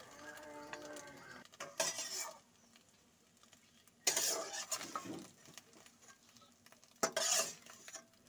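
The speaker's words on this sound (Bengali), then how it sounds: "এভাবে একটু খুন্তিটা দিয়ে নাড়াচাড়া করে নিচ্ছি" A spatula scrapes and clatters against a pan while frying egg, in a few short bursts of stirring, with quiet gaps between, near and fairly soft.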